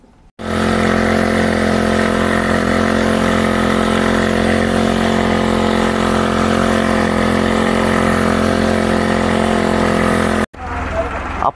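Engine-powered pesticide spray pump running on a farm, a loud steady motor drone with an even humming pulse that continues for about ten seconds, then cuts off abruptly.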